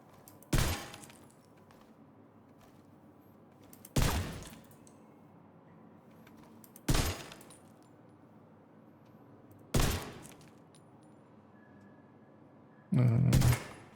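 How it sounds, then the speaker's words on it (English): Primers detonated one at a time, giving five sharp, loud cracks spaced a few seconds apart with quiet between them; the last is a slightly longer burst. "each primer that we detonate"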